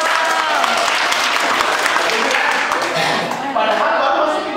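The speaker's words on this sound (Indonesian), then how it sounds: "Tepuk tangan dulu." Seminar audience at an internet marketing event bursts into sustained, loud applause that fills the whole stretch, with a slight dip near the end before the clapping swells again.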